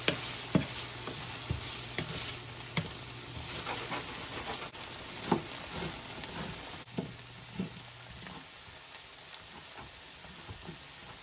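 Bacon and potatoes fry in a pan for a home-cooked Maine farm breakfast, giving a steady soft sizzle throughout with occasional clinks and scrapes of a utensil against the pan, no voices.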